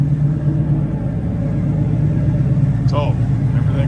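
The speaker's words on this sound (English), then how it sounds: "Let you listen to the exhaust got turned down behind the tires" A 1969 Pontiac Bonneville wagon with a non-original 350 V8 idles at a car show, its turned-down exhaust giving a steady low rumble. The rumble runs throughout, with a brief faint chirp from the surroundings near the end.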